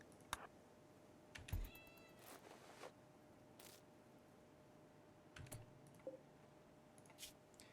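A faint cat meow from the colony pet in the Rimworld video game rises over quiet background noise, mixed with scattered soft clicks of computer keyboard typing.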